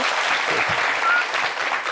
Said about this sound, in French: Applaudissez pour moi, 2 minutes.